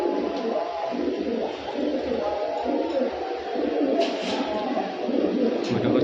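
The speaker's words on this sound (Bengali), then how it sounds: "আজকে দিনে জাবরা পাঙ্খি আর একটা পেয়ার দেখাবো" A pair of Jabra pankhi blue-eyed pigeons coo in steady, repeated low throaty pulses that continue throughout, close and moderately loud against a constant hiss of background noise.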